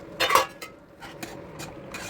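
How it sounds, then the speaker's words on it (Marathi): Semolina being stirred into boiling water in a metal pot for green peas upma, heard as a few close spoon scrapes and clinks against the pan, the first loudest, spaced irregularly over a low background. "आता मी ह्यामध्ये रवा घालणार आणि कंटिन्युअसली स्टर करत जाणार आहे"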